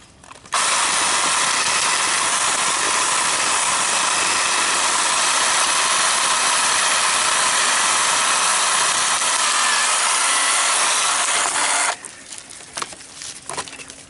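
A Ryobi 18V lithium-ion battery 10-inch chainsaw motor roars loud and steady for about eleven seconds while cutting wood about 1.5 inches thick, then cuts off, leaving faint rattles and clatter.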